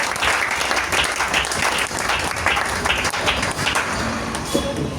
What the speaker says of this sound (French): Est-ce qu'on peut acclamer le Seigneur pour ce qu'il a fait?